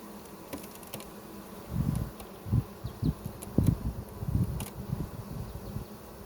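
Honey bees buzz softly in a low, wavering drone over a hive frame, with louder bursts as individual insects pass close by against quiet background hum.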